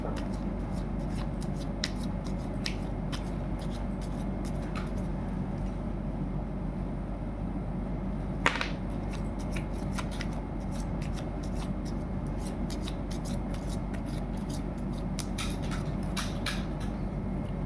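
Tarot cards shuffled and drawn by hand, a soft continuous riffling and flicking with scattered crisp card snaps over a steady background hiss, quiet and close.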